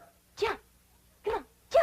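A dog gives three short, sharp barks spaced evenly apart, close and clear, with a person's encouraging voice nearby.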